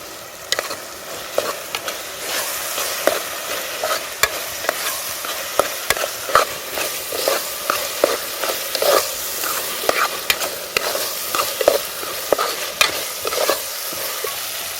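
Onion and tomato fry in oil in a pan outdoors, a continuous loud sizzle with repeated scraping stirs of a spoon running through it.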